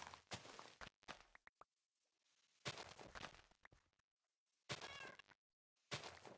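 A cat in a modded Minecraft game meows several times in short, clear bursts separated by silences, with faint game thumps and steps between calls.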